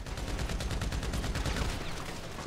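Rapid gunfire in the video game GTA V Online during a first-person deathmatch inside a factory, a dense stream of loud automatic shots fired in quick bursts.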